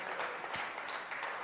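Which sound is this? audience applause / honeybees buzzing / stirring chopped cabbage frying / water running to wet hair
audience applause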